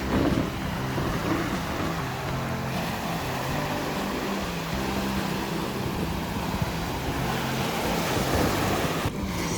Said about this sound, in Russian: Сегодня небольшие волны